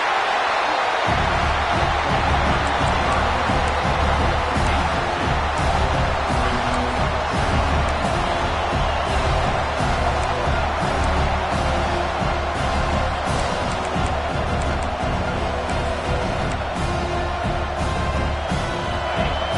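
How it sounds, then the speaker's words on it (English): A stadium crowd roars steadily in a Madden football video game, a loud, constant wash of cheering and noise that never lets up. "this crowd is fired up. Listen to this noise here."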